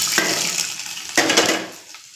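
Cumin, mustard seeds and garlic sizzling in hot oil, a bright crackling hiss with two sharp bursts as ingredients hit the pan, the second dying away toward quiet.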